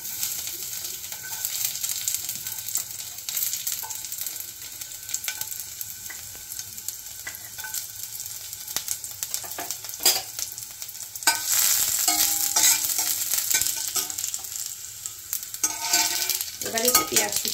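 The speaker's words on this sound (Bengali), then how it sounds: "তেলটা গরম হয়ে গেছে, এই তেলের মধ্যে রসুন কুচিগুলো দিয়ে দিচ্ছি" Chopped garlic fries in a shallow film of hot oil in a frying pan, giving a steady soft sizzle with scattered spatter pops and scraping stirs that grow louder near the end.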